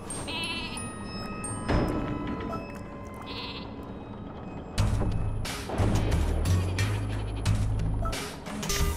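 Sheep bleat in the video game Flockers, several overlapping bleats close and loud amid game effects and a heavy thud partway through, with no talk.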